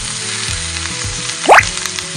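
Vegetables sizzle steadily in a pan as flattened rice (poha) is tipped in, a brief louder rustling burst in the middle over the continuous frying hiss; no one speaks.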